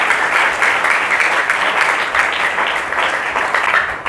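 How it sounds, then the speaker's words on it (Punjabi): A worship-service congregation claps hard and continuously, a dense, loud wash of applause that stays even from start to finish. "ਉਸ ਵੱਡੇ ਪਰਮੇਸ਼ਰ ਲਈ ਜ਼ੋਰ 'ਚ ਖਿੱਚ ਕੇ ਤਾਲੀ ਵਜਾਓ"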